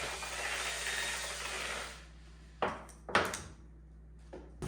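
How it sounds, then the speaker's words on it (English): A small paint mixer churns grout in a mud pan for a tile backsplash, giving a steady whirring drone for about two seconds before stopping, followed by a few sharp knocks and taps. "I like to use a small paint mixer to make sure my grout is mixed up very well"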